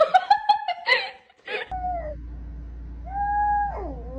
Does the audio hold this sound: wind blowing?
no